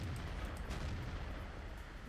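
A single heavy tank cannon shot firing an armor-piercing shell in the World of Tanks game, a broad booming blast that rumbles and fades over about two seconds.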